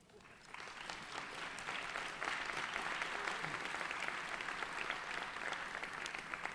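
A room of people at a leadership awards event applauds an honoree, with steady, moderately loud clapping that builds in the first second and keeps going throughout at an even density, with faint voices mixed in.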